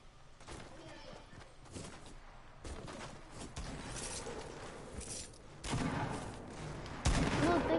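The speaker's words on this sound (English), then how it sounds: "Oh, they shooting." Gunfire in the video game Fortnite, with shotguns in play, rings out as sharp bursts and rapid volleys that grow louder toward the end.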